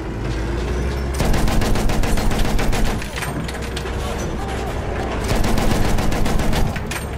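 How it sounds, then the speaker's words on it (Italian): Sustained machine gun fire in Battlefield 1, loud and close, rattling in long rapid bursts with brief gaps, mixed with other battlefield noise throughout. "Mitragliatrice!"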